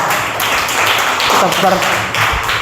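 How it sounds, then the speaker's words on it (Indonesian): Classroom applause for two students, a steady patter of many hands clapping at once that runs throughout with a few voices mixed in. "tepuk tangan untuk kedua orang ini"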